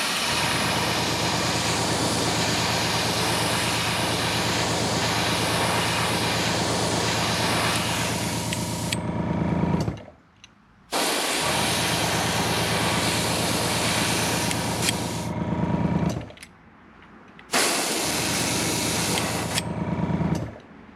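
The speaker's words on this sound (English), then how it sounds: "I'm just going to lightly spray right along where the green meets the white" Airbrush spraying pearlized gold paint onto a custom glide bait along the line where green meets white, a steady close hiss of compressed air with two brief pauses between long continuous passes.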